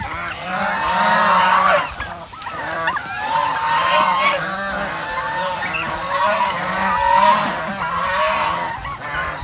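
Farm turkeys gobble and call repeatedly in loud, overlapping warbling bursts close by, forming a continuous noisy chorus with brief gaps.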